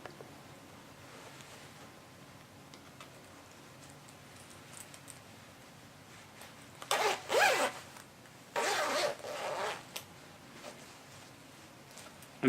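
A clothing zipper is pulled in two quick, distinct runs, each a bright, rasping burst that rises out of a quiet room and stands alone with no voices.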